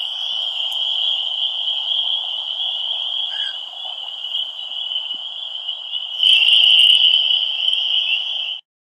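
Spring peeper frogs call in a steady, dense, high-pitched chorus that runs continuously and swells louder near the end, with no voices present.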